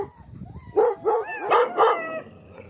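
Sled dogs at a polar kennel yelp, howl and bark excitedly at feeding time, several close, overlapping cries in short bursts.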